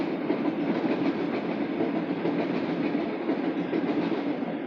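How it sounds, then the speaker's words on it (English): A train rumbling past outside a New York City public housing building, at a steady distance, a continuous low clattering roar of rail cars with a faint rhythmic clack. "Okay, there comes the train."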